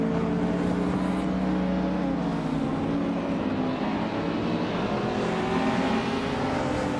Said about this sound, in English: Owen Storm is driving an Audi Sport Quattro from 1984